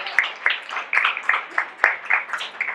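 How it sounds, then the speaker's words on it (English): Applause from a small gathering celebrating a bakery's birthday, with a run of short bursts of clapping that rise and fade about twice a second, close and moderately loud. "let's give her a big round of applause"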